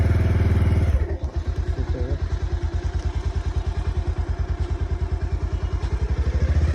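A motorcycle engine thumps along on the road with a steady, rapid low pulse, loud and close, after a brief smoother hum at the start.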